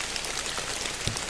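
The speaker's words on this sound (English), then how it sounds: "Here it's raining." Steady rain falls outside a cabin on a cold morning, a soft continuous patter of drops with one brief louder thump near the end, no voices.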